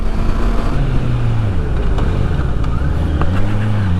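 A 2025 Honda CBR650R motorcycle engine is heard during a ride, giving a steady, loud drone with rising and falling pitch as it accelerates, accompanied by continuous wind and road noise and no speech.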